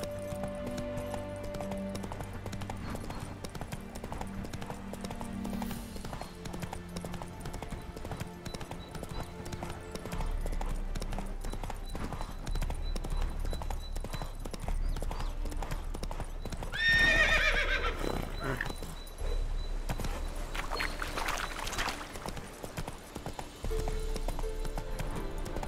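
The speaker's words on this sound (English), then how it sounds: "Whoa there, Roach." A horse in the video game Witcher 3 trots with steady clip-clopping hooves under game music, then lets out a loud, close neigh midway before the hoofbeats carry on.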